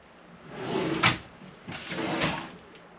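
A kitchen drawer in a 2025 Grand Design Solitude 310GK fifth-wheel trailer slides open with a soft rolling rush, then slides shut again a moment later, close by and fairly quiet.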